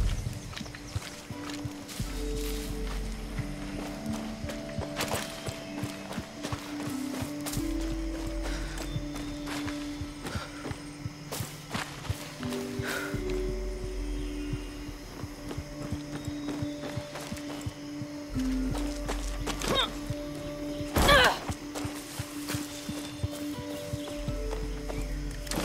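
Horse hooves clip-clopping in a rhythmic run through the Far Cry 6 video game, repeating steadily over game ambience and mechanical clicks, with an occasional whinny.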